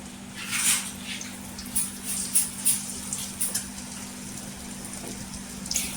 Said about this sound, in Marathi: आपण वांगी तेलात सोडायची